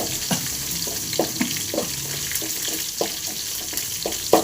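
Crushed garlic and mustard seeds fry in a pan with a continuous close sizzle, punctuated by a series of regular stirring scrapes and clinks, no speech.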